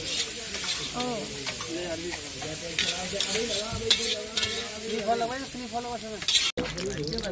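Halwai-style tawa sabzi frying on a hot griddle, a steady loud sizzle with stirring scrapes throughout, cut by a brief dropout near the end, with a voice talking over it.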